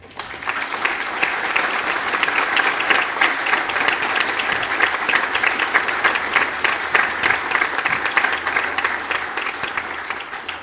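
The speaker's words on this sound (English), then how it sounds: "let's give them one more round of applause" A high school awards ceremony audience applauds steadily, dense clapping filling the hall at an even level for the whole stretch with no voices over it.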